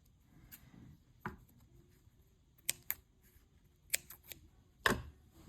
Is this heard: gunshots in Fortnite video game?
no